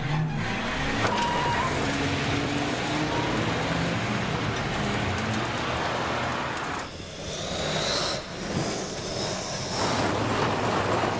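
A car engine runs loud and close, revving as the car starts and pulls away, with the motor note shifting as it drives off.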